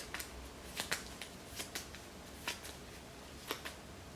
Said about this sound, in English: I'll just shuffle that whole deck